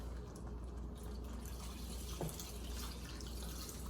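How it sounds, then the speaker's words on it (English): Three cups of water pour into a cooking pot of lentils seasoned with cayenne, a steady splashing rush that runs for several seconds, close and continuous. "we're gonna add 3 cups of water"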